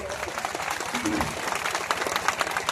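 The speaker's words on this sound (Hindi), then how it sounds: "एक बार जोरदार ताली बजाकर इसे स्वागत करो सब लोग।" A crowd at an election rally in Bihar claps loudly and continuously, the applause close and dense, with voices mixed in beneath it.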